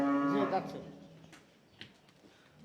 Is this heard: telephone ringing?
no